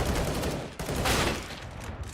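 Rapid gunfire in a competitive Counter-Strike match, a dense burst of shots crackling over loud game and crowd noise for a couple of seconds.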